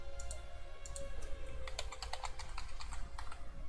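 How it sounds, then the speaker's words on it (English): A computer keyboard is typed on in a quick, close run of sharp clicks spread across a few seconds, over a low background hum, with no voices. "Control E, and type concrete"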